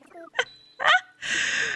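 A bird in a video game gives loud gobbling calls, several short close bursts followed by a longer sustained note.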